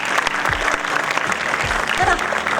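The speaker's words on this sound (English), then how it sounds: "So I deserve a round of applause, please." Audience applause at a film motion-poster launch event with Karan Johar and Sara Ali Khan: dense, continuous clapping from a crowd, loud and steady throughout, with a few low thumps beneath it.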